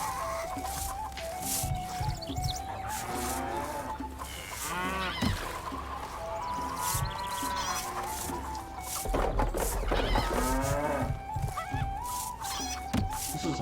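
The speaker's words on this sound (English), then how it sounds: "This is some very vocal cows." Livestock calls in the strategy game Stronghold, a busy mix of honking, clucking animal cries that repeat over a continuous farmyard background at moderate loudness, with no talk.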